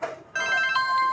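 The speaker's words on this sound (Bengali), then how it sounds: "আবার ফোন করছে" A mobile phone ringtone starts after a brief pause in a drama scene, an electronic melodic tone ringing clearly at close range.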